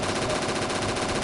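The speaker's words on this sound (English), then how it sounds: "I will never stop shooting." Rapid automatic gunfire in the PSVR shooter Operation Warcade, a dense unbroken burst of shots, loud and close, with no voices.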